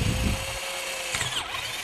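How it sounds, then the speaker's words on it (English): Power drill boring into a coconut shell, a loud close motor whine with a grinding bite at the start, then a steady drone that dips in pitch near the end, no voices. "you drill into the coconut"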